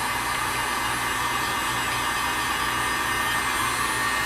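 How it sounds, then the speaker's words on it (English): A heat gun shrinking heat-shrink tubing over soldered wires during an ARRMA Limitless RC car build blows a loud, steady whooshing roar that runs unbroken throughout, with no talking. "you're gonna take your heat gun and you're gonna start heating it up, so it's gonna shrink around it"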